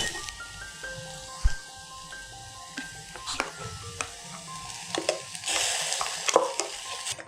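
Masala for a South Indian coconut-gravy prawn curry fries in a pan with a soft, steady sizzle, broken by scraping stirs and spoon knocks, while tones and faint sounds run underneath.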